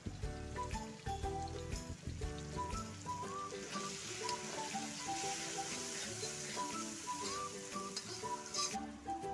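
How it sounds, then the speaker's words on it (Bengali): Spice mix of turmeric, chilli, cumin and pepper powders frying in a pan for chicken curry, a steady low sizzle with stirring scrapes, faint beneath louder overlapping music-like tones. "এইভাবে আমি মশলাটা কষে নেবো সব রকম মশলা একসঙ্গে দিয়ে"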